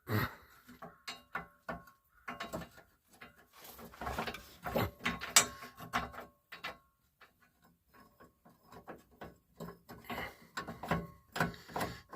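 Bolts being screwed in while a frame hitch is fitted to a 2003 Ford F-150, heard as bursts of close ratcheting clicks and metallic ticks with short pauses between them, no talking.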